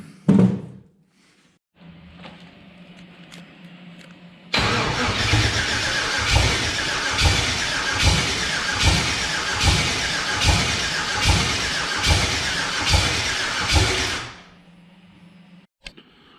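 A turbocharged LS engine swapped into a Mopar car fires for its first start, running on only one cylinder. A loud, lumpy, rhythmic chugging goes on for about ten seconds over a low hum, then dies away.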